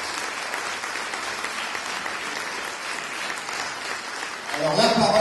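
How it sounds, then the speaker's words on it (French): Steady applause from an audience at a French general council election gathering, dense clapping that continues evenly and swells louder near the end. "Merci à tous pour ces applaudissements fournis."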